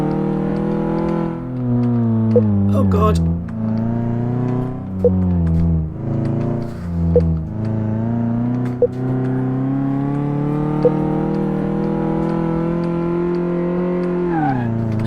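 A car engine in Car Mechanic Simulator 2018 revs and strains with an automatic gearbox that won't shift, a loud whining drone rising and falling in repeated surges, with a brief spoken exclamation over it.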